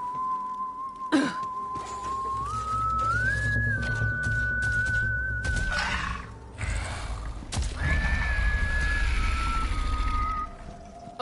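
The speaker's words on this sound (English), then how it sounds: "Someone whistling." Someone whistles a long, wavering melodic tune in the Borderlands 3 video game, the clear whistle carrying over a low rumbling backdrop; a horse whinnies midway and hoof clip-clops join as the whistling resumes.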